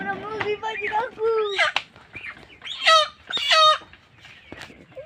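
Chickens at a village picnic gathering cluck loudly and repeatedly close by, with a rooster crowing among the bursts of calls, while people talk in the background.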